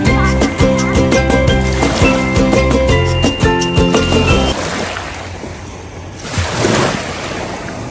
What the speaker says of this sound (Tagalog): Nandito sa dagat si Venice